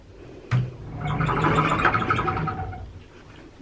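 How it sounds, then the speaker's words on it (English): A cruise ship cabin closet door slides along its track with a soft thump at the start and a smooth rolling whir for about two seconds. It is heard close up and alone. "For closets, the closets slide this way"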